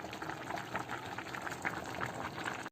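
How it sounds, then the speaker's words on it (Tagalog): Cooking water drained off boiled spaghetti, a continuous close rushing, bubbling splash of hot liquid pouring out for a few seconds without pause. "I-drain na natin yung water."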